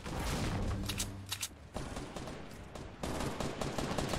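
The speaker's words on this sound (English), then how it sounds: "Getting sniped at." Sniper gunfire in a Fortnite solos match, a few sharp cracking shots in quick bursts over the first half, then scattered fainter reports against a noisy game background.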